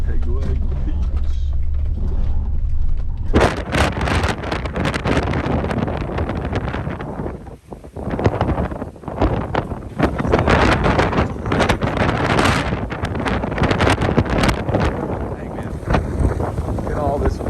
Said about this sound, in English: Look at all this wind.